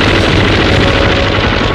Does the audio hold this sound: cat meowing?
no